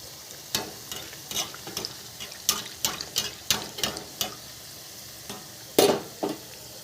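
Crispy onion bhaji fry in hot oil with a soft, steady sizzle. Sharp scraping and stirring clicks are scattered irregularly over it, and no one speaks.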